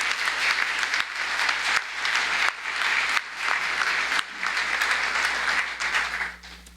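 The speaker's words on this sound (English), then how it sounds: "Give them all a round of applause." Loud, continuous applause from an audience at a chamber of commerce annual meeting, greeting new board members, swelling in waves and fading out at the end.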